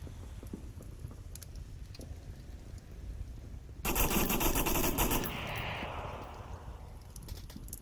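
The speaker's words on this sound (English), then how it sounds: "Shots from burning building." Rapid automatic gunfire bursts from a burning building in the VR shooter Onward, heard at a distance under game ambience, with one loud sustained burst in the middle followed by a fading rattle and scattered shots.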